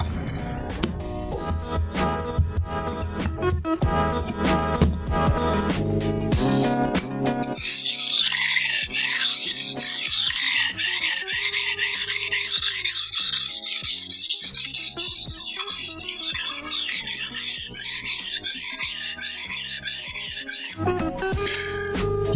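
A knife blade scrapes rhythmically across a 600 grit whetstone, a steady series of loud, gritty rasping strokes close to the microphone, with no talking.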